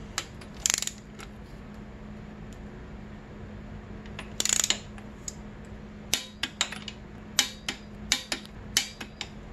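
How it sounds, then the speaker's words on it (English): Metal clicks and ratcheting taps from a ratchet torquing the cylinder head bolts on a 2006 Honda CRF250R during a head rebuild, irregular sharp transients in bursts over a steady low hum, close and fairly quiet. "I'm gonna go ahead and torque these in a crosshatch pattern"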